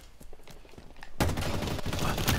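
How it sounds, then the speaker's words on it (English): Gunfire in a Halo Infinite free-for-all slayer match: scattered single shots at first, then a dense, loud burst of rapid automatic fire that fills the rest of the moment, close and unbroken. "Shooting on the left."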